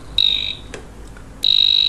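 Non-contact AC voltage tester pen beeping, two short shrill electronic beeps separated by a brief pause, loud and close with no talking.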